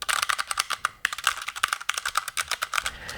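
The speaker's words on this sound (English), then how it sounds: "This is the Vortex Poker 3 mechanical keyboard with Cherry MX brown key switches" Rapid typing on a Vortex Poker 3 mechanical keyboard fitted with Cherry MX Brown switches, a close, steady patter of crisp key clacks with no voices over it.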